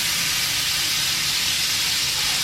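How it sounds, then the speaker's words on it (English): Meat searing on a grill gives off a steady, loud broadband sizzle and hiss that runs unbroken for the whole stretch, with no voices. "at the last minute, I'll put them on the grill and sear them"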